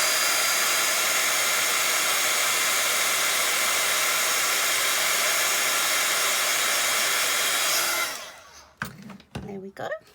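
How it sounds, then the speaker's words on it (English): Heat tool running loud and steady for about eight seconds while embossing paper made with a 3D embossing folder, a dense breathy roar that then cuts off, followed by a few faint handling sounds. "And I've got my old heat tool. So this is going to be a bit noisy"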